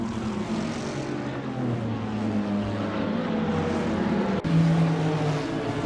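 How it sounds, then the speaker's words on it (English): A race car engine in Gran Turismo racing at Spa holds a high, buzzing, steady drone against the rev limiter, loud and continuous, with a brief stutter and slight pitch change near the end. "Wow, hitting the rev limiter there"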